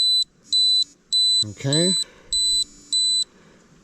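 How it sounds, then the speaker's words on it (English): Satellite communicator SOS alarm sending out repeated loud high-pitched beeps in an even on-off rhythm, with a brief spoken word in the middle. "Got a cool little alarm."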